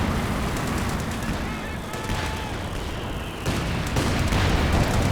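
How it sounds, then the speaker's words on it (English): Artillery barrages and gunfire from an indirect-fire battle in Company of Heroes 2, a dense, continuous wash of booms and shots with a louder burst near the end, under someone talking. "Man, so much indirect fire."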